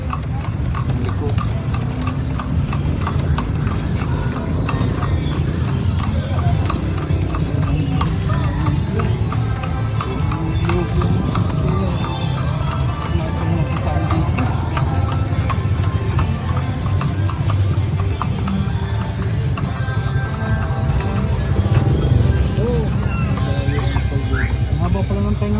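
Steady clip-clop of horse hooves on pavement in Vigan continues throughout, mixed with street noise and people chatting.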